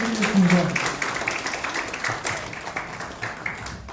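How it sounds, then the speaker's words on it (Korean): Scattered applause from a crowd at a political party rally continues steadily at moderate volume, with a voice talking over it at the start. "네, 박수 부탁드리겠습니다."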